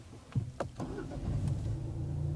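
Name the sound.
car engine starting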